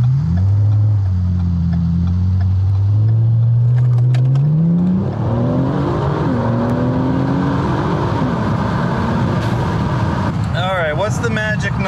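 A car makes a hard 0-60 run on 93 octane gas with Octanium additive. The engine revs loudly and climbs through gear shifts, then settles into a steady roar, with a brief spoken remark near the end.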